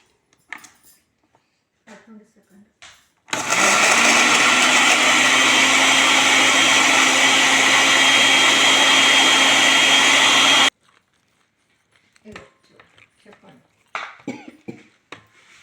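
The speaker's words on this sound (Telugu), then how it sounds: "దీంట్లో అన్ని కలిసేట్టు కొంచెం మళ్ళీ మిక్సీ పట్టుకోవాలి" A mixer grinder whirs loudly for several seconds, a steady high-pitched motor roar that starts and stops abruptly, with quiet speech before and after.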